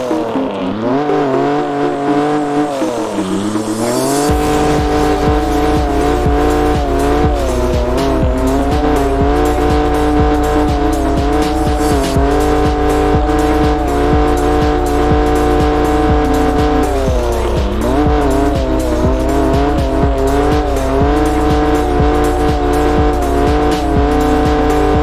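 A game car drifts on snow in CPM2, the engine droning loud and steady at high revs with shifting pitch and constant tire hiss, alone without talk.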